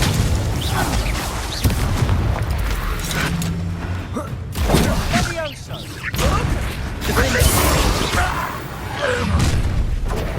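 Explosive Confringo spell blasts in Hogwarts Legacy combat, booming thuds and whooshes layered over a dense, continuous wash of battle noise with scattered voices.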